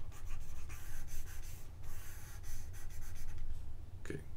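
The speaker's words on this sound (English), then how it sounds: "So erase all this." Someone wipes math work off a board with quick, scratchy rubbing strokes, close and fairly quiet, in steady bursts with brief pauses.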